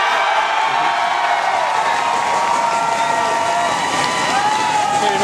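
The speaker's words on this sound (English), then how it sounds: "this has been one of the most electric crowds I've been a part of" A large indoor crowd at a CrossFit Open live workout announcement, cheering and applauding in a dense, continuous roar that fills the space with no break.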